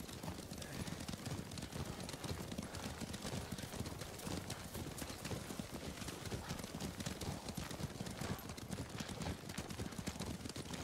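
Horse hooves gallop steadily and fast through open country in the Ghost of Tsushima video game, a dense unbroken clatter running the whole stretch with a brief whinny and no talk over it.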